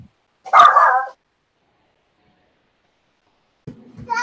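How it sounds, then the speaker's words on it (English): A Chihuahua mix dog lets out a quick, loud, close yelping bark, then falls silent for several seconds before starting to bark again right at the end. "He's like that Chihuahua mix. He likes to bark at everybody."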